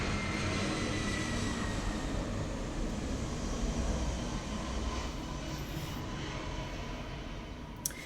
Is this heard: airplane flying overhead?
yes